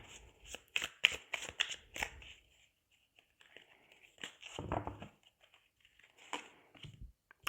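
Tarot cards shuffled for a reading, a quick burst of crisp riffling and slapping strokes, then a pause and a few more scattered shuffles and taps, close and fairly loud.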